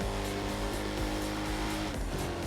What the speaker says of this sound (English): I feel like the car engines can be quite loud sometimes and then just kind of completely disappear.